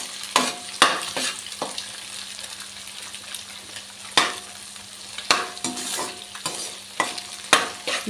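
Fried rice roasting and being stirred in a pan, a steady sizzle broken by sharp, repeated scrapes and clatters of the spatula at irregular intervals.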